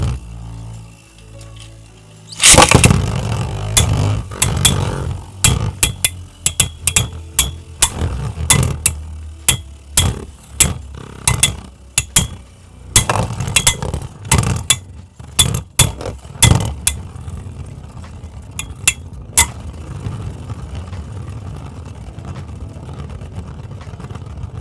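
Beyblade spinning tops, one of them Flash Sagittario, clash in a stadium after a launch, with rapid sharp metallic clinks and hits over a steady whirring spin, fading to lighter scattered taps toward the end.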